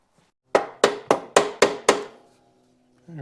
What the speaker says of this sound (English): Get my plastic hammer.